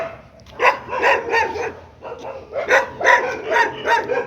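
Several large dogs bark repeatedly nearby, with loud, overlapping bursts in uneven clusters.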